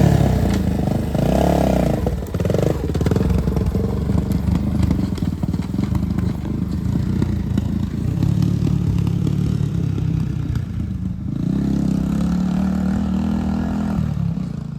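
A 1986 Yamaha BW200 big-wheel motorcycle with a dead battery runs nearby. Its engine holds a loud, steady chugging idle throughout, with rising revs at a few points and some rattling clatter.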